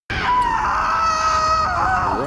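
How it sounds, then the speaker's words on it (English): A woman lets out a short, freeing scream during a hot-air balloon ride, a sustained high cry lasting about two seconds with a ringing, slightly echoing tail. "she lets out a short, freeing scream"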